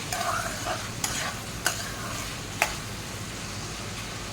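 Ginger garlic paste fries in a pan for spaghetti, a quiet constant sizzle marked by a few sharp spatula clicks and scrapes against the pan, close by and without speech.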